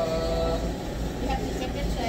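A train rumbles steadily at close range, a continuous low rolling drone with faint squeals on top, while a voice talks faintly beneath the noise.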